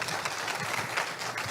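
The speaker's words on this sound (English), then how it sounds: "please give Brian one more round of applause" An audience at a TEDxBGSU event gives a speaker named Brian a brief round of applause, with steady clapping at moderate volume that fills the short moment without a break.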